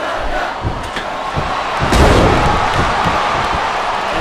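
Arena crowd noise swells and roars during a women's wrestling submission match between Natalya and Melina in WWE SmackDown vs Raw 2010 on Xbox 360, a dense continuous cheer that rises loudest midway, with thuds beneath.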